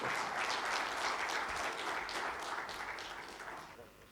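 Round of applause from an audience at an inauguration ceremony, steady clapping that slowly fades toward the end, heard fairly quietly.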